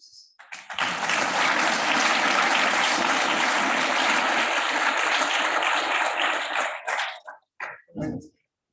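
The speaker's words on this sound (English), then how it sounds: "And so please join me in welcoming Jelani with the warmest of applause" An audience at an academic lecture on streaming and private heavy hitters breaks into warm applause to welcome the speaker; dense, loud clapping swells quickly, holds steady for several seconds, then tapers off into a few last claps and faint sounds.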